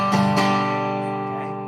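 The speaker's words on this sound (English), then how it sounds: "if we look at the classic folk strum pattern" Acoustic guitar strumming the classic folk pattern, a couple of quick down-up strokes over a ringing chord that sustains and fades, close and clear with no voices.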